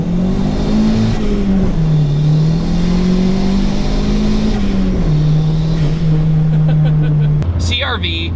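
A turbocharged Honda CR-V engine drones loudly and revs with wavering pitch close by, then cuts off abruptly near the end with a brief whooshing release.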